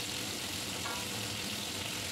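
Cauliflower florets frying in mustard oil in a pan, a steady close sizzle and crackle running evenly throughout without any talking.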